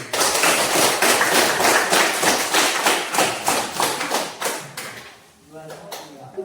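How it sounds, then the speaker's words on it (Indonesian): Classroom applause for a student group, a burst of many hands clapping in a steady rapid rhythm for about five seconds before fading out, with brief voices at the end. "kita berikan aplaus untuk kelompok 1"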